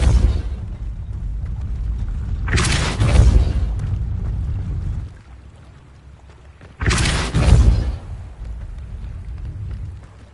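In the video game Hogwarts Legacy, a Depulso repelling spell is cast twice. Each cast brings a loud, booming, whooshing blast that dies away over a couple of seconds, with quieter game ambience between them.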